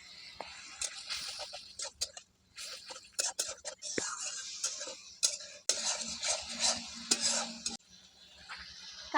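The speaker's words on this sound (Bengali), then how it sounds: "ভালো করে কষিয়ে নিব।" Spice paste of cumin and chili powder with water and fried onion sizzles and scrapes in a pan, with steady sautéing and stirring noise and intermittent metallic clinks throughout.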